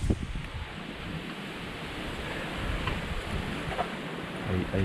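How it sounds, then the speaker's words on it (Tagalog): Strong wind roars steadily into the microphone, a dense rushing noise with low buffeting rumbles throughout. "Gawa ng napakalakas ng hangin"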